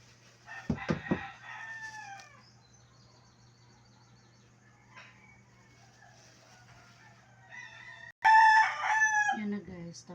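Chickens and roosters crow in a backyard, one near crow early on and a louder close crow near the end, with faint clucking and a steady low hum underneath.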